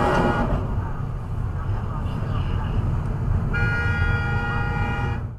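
In a long line of traffic, a road-raging driver leans on the car horn, giving a steady, sustained honk over the low rumble of engines and road noise.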